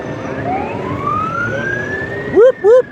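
A police siren rises slowly in the distance under a steady background of traffic and motorbike engine noise, then two sharp, close whoops of a yelp siren sound at the end.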